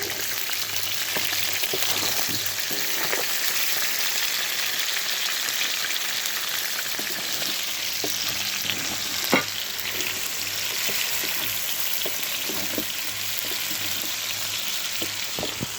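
Sliced peppers frying and stirred in a pan for homemade paella: a steady, close broadband sizzle with scattered soft scrapes and clicks of a utensil, one sharper knock near the middle, no voices.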